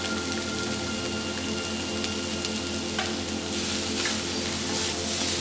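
Onions fry with grated garlic in a pan, giving a constant, dense, close sizzle. It holds a steady level throughout with faint scraping textures and no voices.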